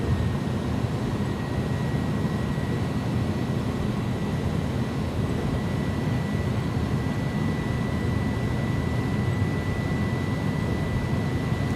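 Loud, sustained jet roar from an iniBuilds A300-600F freighter spooled up for takeoff in X-Plane 12, an even wash of engine noise with a faint steady whine riding on top.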